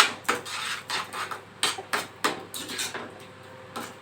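A spoon stirs sugar and cinnamon into mango semolina kesari in a pan, making a series of close scraping taps and clinks in an uneven rhythm.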